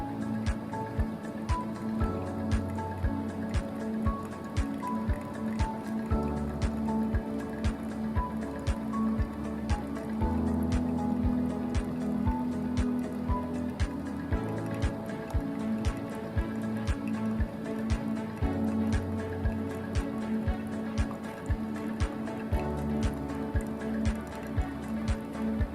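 Hot water poured in steady stages over coffee grounds in a hand drip brewer, a continuous close liquid trickle with small drips and ticks running throughout.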